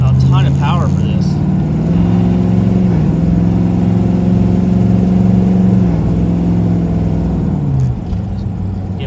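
A 1996 Chevrolet Impala SS with a swapped 5.3-litre Gen V engine idles loud and close with a steady drone. It dips in a brief blip of throttle and then settles, while someone talks over it.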